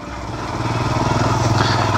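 Royal Enfield Himalayan motorcycle grinding over a rough off-road mountain track in Kinnaur, its engine a steady low throbbing drone that swells slightly louder, close and continuous.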